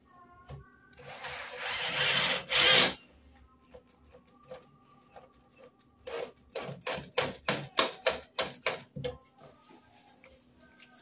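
A short burst of a power drill whirring, then a quiet gap, then a quick series of rapid drill pulses as screws are driven in, close by.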